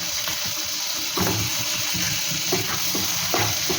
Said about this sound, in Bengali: হালকা আছে ভালো করে এটাকে ফ্রাই করে নেব